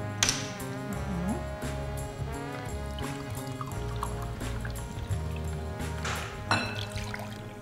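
Sparkling mineral water pours and splashes into a container in short bursts for pancake batter, with light clinks and rustles of kitchen activity around it, fairly close and quiet.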